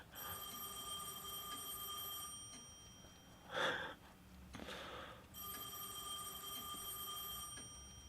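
A telephone rings in the video game Heavy Rain, with two long bright electronic ringing bursts separated by a pause that holds a brief knock or thump, steady and clear.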